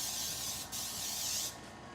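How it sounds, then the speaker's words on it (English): Baking spray hissing onto a pan in a home kitchen, two close bursts of bright spraying separated by a brief pause, alone without talk. "So then you just spray your little pan."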